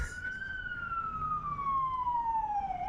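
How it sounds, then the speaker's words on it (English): A single ambulance siren wails in one long, slowly falling tone, fairly close and clear over low background rumble. "it's an ambulance"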